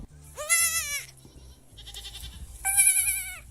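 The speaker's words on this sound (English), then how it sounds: "We just watched these same 4 goats over and over again on an endless loop for hours and hours and hours." Several goats bleat in two loud, wavering calls close by, one after the other with a short pause between, over a low background hum.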